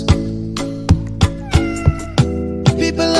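Loud, repeated cat-like meows sound in a regular rhythm, each punctuated by a low thump, with the mewing tones sustained between beats in a musical, imitated pattern.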